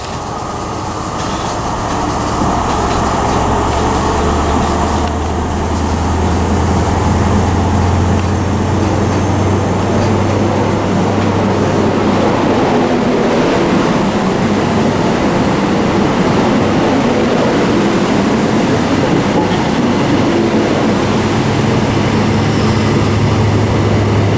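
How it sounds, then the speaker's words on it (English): A CrossCountry service pulls out of Bristol Parkway for Plymouth, its engine rumble swelling into a loud, sustained roar with broadband rushing as it moves off. "departing now is a 12:32 cross-country service to Plymouth"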